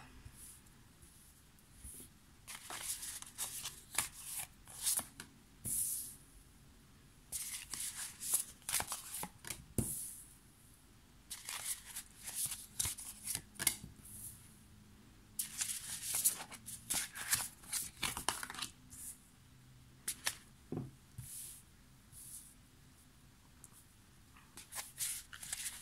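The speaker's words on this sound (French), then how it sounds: "je vais tirer les 9 cartes pour voir" Tarot cards being shuffled and drawn, soft riffling and sliding bursts repeating irregularly near the microphone, quiet and close, with no speech.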